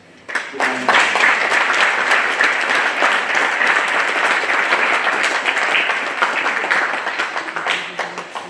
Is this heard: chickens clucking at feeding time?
no